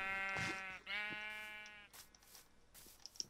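Sheep in the Minecraft video game give two close, clear harmonic bleats one after the other, followed by faint clicks and soft game sounds.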